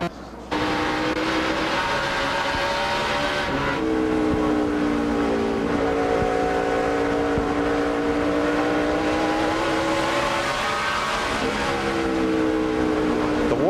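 NASCAR stock cars roar around the track at the Food City 500, a dense continuous engine drone with pitch sweeping up and down as the pack runs nose to tail, loud and sustained throughout.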